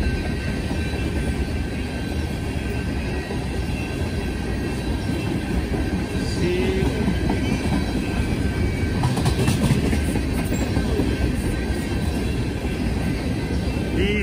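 A freight train rumbles past close by, a loud continuous roar with rattling wheels and faint metallic squeals partway through.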